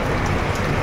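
Steady, dense rain patters loudly and close by, a continuous wash of hiss with no gaps.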